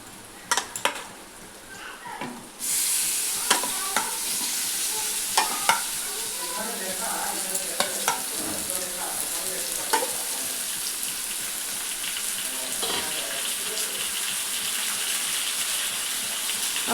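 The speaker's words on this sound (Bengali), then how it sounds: "চিকেনটা ঢেলে দিচ্ছি।" Raw chicken for a chicken curry hits a hot pan of ground chili, garlic and ginger, setting off a loud, steady sizzle that runs throughout, punctuated by scraping stirs and clinks of a utensil against the pan.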